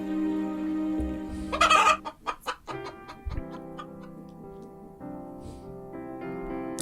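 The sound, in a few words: chicken clucking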